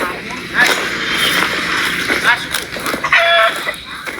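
A chicken clucks in short bursts close by, with people talking over it and other outdoor noise behind.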